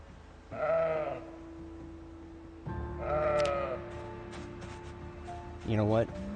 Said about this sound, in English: I am going to go ahead and leave the ram and the ewe here.